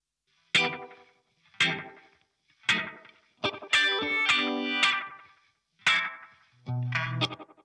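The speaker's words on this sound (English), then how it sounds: "So if I just solo out the guitar right away here." Soloed electric guitar track from a mixed song, short choppy chords and stabs with effects, punchy and close, separated by brief gaps.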